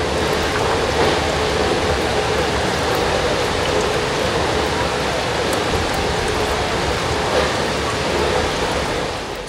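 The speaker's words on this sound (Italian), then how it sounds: "alle cascate Giesba." Giessbach waterfalls in Switzerland send out a continuous broad roar of cascading water, loud and steady from start to finish, with no talking over it.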